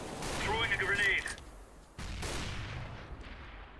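P90 submachine gun fire in Counter-Strike, rapid bursts of shots with a clear break in the middle, mixed with other game noise and no talk over it.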